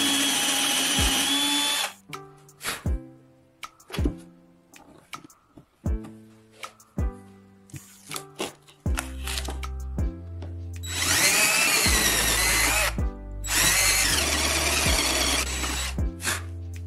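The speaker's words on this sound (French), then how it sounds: "Percez des trous au point marqué, maintenant les barres s'assembleront parfaitement." Power drill boring holes in wooden bars, heard as several short bursts of the motor spinning up and stopping, then two longer, louder drilling runs near the end, close and loud with no talk.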